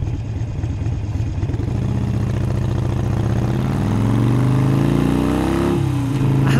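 A Harley-Davidson Iron 883 motorcycle on a warm-day ride, its engine loud and close, throbbing steadily and then revving up with rising pitch toward the end before dropping back, no talking.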